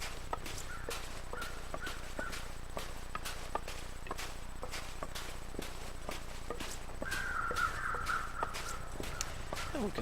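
Crows cawing in the snowy wilderness of the survival game The Long Dark, several distant caws spread through the clip over a steady wind and regular crunching footsteps in snow, with no talk.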